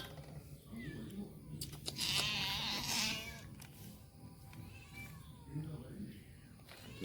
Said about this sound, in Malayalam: ഒരു പൂച്ച നമ്മുടെ കാലിൻ്റെ അതിക്കടെ കറങ്ങി അടിച്ച് നടക്കുന്നുണ്ട്